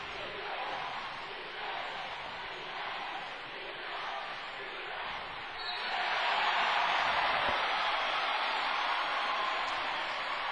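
Spectators at a college basketball game cheer at a moderate level, then the roar swells noticeably louder and stays high, with indistinct voices mixed in.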